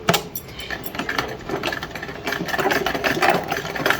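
A sewing machine stitches fabric close by with a continuous rapid mechanical whirr and clatter that rises slightly in intensity partway through, running steadily with no talking.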